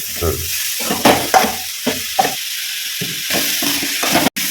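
Beetroot poriyal fried with spice powder in a pan gives a steady sizzle broken by repeated scraping stirs, close and fairly loud, with no voices.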